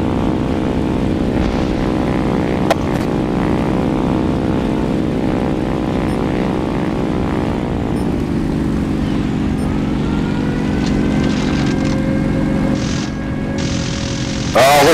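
A Spitfire fighter's propeller engine drones loud and close in the combat flight game War Thunder, a steady buzzing hum that shifts pitch midway, with a sharp burst at the very end.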